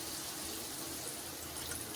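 Water poured into a cooking pot for chana pulao, a steady close gushing fill with no pause, fairly quiet and alone.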